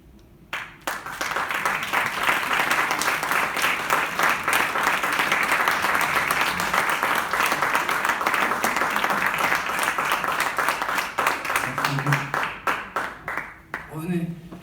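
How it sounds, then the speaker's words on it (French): An audience applauds steadily for over ten seconds, dense clapping close and loud, thinning toward the end as a few voices come through. "On peut vous applaudir encore."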